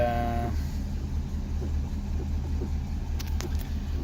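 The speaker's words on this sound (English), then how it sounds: "It's got a cylinder misfire." A car engine with a cylinder misfire idles just after starting, giving a continuous low, rumbling drone at moderate level with faint uneven pulsing and no voices over it.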